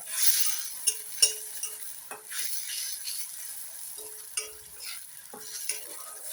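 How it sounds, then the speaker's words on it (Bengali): Tomato masala for a spicy pabda catfish curry is sautéed in a pan, a soft continuous sizzle broken by repeated spatula scrapes and light clinks at an uneven rhythm. "খুব ভালো করে কষাবো, যাতে টমেটোর কাঁচা গন্ধটা একদম চলে যায়।"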